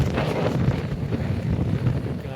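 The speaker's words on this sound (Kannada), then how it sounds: "ಗಾಳಿ ಯಪ್ಪ" Strong wind on an off-road hilltop at Kotebetta buffets the microphone in a continuous, loud, low roar with no breaks and no clear speech.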